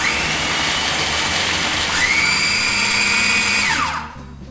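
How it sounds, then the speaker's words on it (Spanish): Food processor grinding cinnamon and sugar into a flour-like powder, a steady whirring motor whose pitch rises partway through and then winds down to a stop near the end. "Todo lo vamos a procesar para que quede como si fuera una harina."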